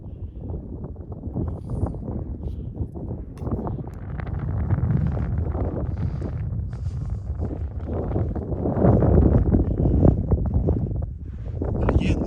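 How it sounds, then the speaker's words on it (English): Steady wind sweeping across open sand dunes at Bruneau Sand Dunes, a loud, continuous rumbling roar buffeting the microphone, swelling stronger in the second half. "Wind has to be 13 miles an hour to move the sand."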